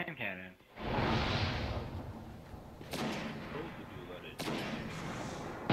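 Hand cannon shots ring out in the Xbox 360 game Destiny as a few heavy, booming blasts spaced a couple of seconds apart, each with a long rumbling tail.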